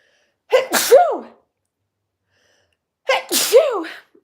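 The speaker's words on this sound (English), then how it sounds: "Oh, I have to sneeze." Two loud sneezes, each with a sharp intake and a forceful burst, separated by a couple of seconds of silence.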